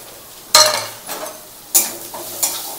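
Ginger, garlic, cumin, coriander, chilli and turmeric powders with salt hit hot oil in a pan in two loud bursts of sizzling, each fading into a softer crackle as they are stirred.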